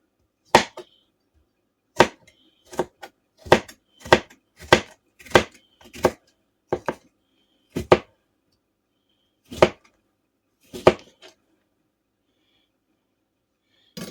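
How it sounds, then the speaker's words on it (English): A kitchen knife julienning Korean radish for kimchi on a cutting board: a dozen or so crisp, separate chops near the mic, bunched in quick runs and then slower, with no talking. "I'm going to keep julienning, and I'll bring you right back."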